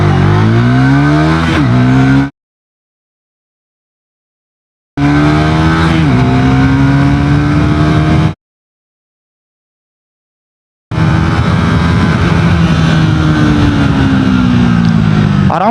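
A Triumph Tracker 400 motorcycle exhaust roars hard under acceleration in three loud bursts, pitch climbing through the gears, separated by abrupt gaps of silence.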